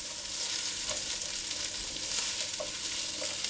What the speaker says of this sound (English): I'm going to put the onions and the celery in, and I'm just going to fry those off to soften them